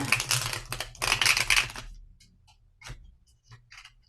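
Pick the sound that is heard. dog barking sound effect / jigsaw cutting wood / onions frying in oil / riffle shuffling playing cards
riffle shuffling playing cards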